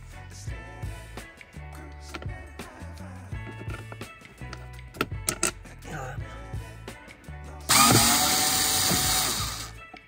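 A compact power tool fitted with a T10 bit whirs in short bursts while removing steering column fasteners, separated by clicks and handling noises, followed by a louder sustained high whine near the end.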